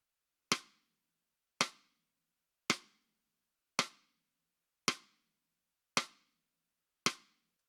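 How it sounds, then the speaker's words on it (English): Seven snare drum rim shots, played solo and processed through an Auburn Sounds plugin, land at an even pace as crisp, sharp cracks that decay quickly into silence. "on the snare, let's have a listen to the rim shots first, without it, and then with it"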